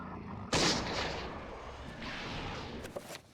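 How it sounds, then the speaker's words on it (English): Single flintlock pistol shot in the video game Eternal Darkness, a sudden loud boom that trails off into a long rumbling decay, with a couple of faint clicks near the end. "I hate flintlock pistols."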